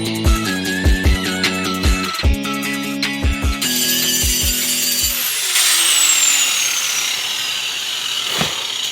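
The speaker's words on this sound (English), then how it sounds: "we'll just go ahead and grind that sucker down and send it for now" Power grinder cutting down a car wheel hub during a Subaru BRZ/Toyota FRS 5x114.3 lug swap, several short bursts of harsh grinding up close, then a longer spin-down whine that fades out.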